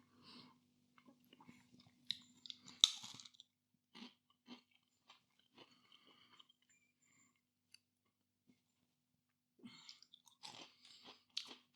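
Someone munches cheese and peanut coated Wotsits puffed snacks close up, a run of crisp crunches and chewing bursts separated by quiet pauses, with no talking.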